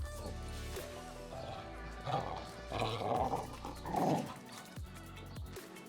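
Dogs growl and grumble indoors during a floor exercise session, a few rough rising bursts in the middle of the stretch over a low background.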